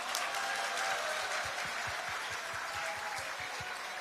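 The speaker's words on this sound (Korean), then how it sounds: "여러분의 힘찬 박수 부탁드립니다." Steady applause from the audience at a workshop for newly elected National Assembly members of a political party, dense and sustained throughout with a few louder claps near the front.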